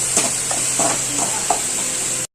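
Ingredients sautéing in a pan while being stirred for about five minutes during Sunday-special home cooking, with a steady close sizzle and several soft scraping stirs across it.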